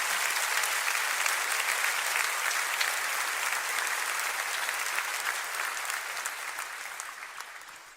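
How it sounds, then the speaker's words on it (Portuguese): Sustained applause from a church congregation during a worship service, a dense wash of many hands clapping that holds steady and fades slightly toward the end, with no speech over it. "Aplauda o Senhor e o honre."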